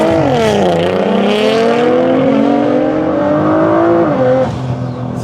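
A Nissan GT-R makes a launch control acceleration run with traction control on, its engine roaring loud and close, pitch climbing steadily through the gears with brief dips at shifts and no voices over it.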